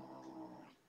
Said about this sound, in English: it could be that he's growling because he has that toy too